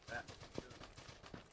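Faint, distant gunfire from the PUBG battle royale game on Xbox One X, a few scattered muffled pops off to the right, under low ambient game noise and murmured background.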